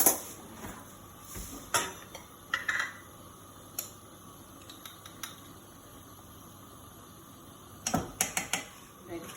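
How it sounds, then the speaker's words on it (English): Mustard and butter are stirred into white sauce in a pan, heard as scattered metallic clinks and scrapes in short bursts at the start and again near the end, with a quiet background hum between them. "So I'm mixing the mustard and the butter into the white sauce mix."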